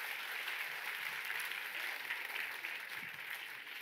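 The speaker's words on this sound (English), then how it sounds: "So I think a round of applause." Steady applause from a lecture audience at a Christmas lecture, an even wash of many hands clapping at moderate distance, fairly quiet and sustained throughout without any voices over it.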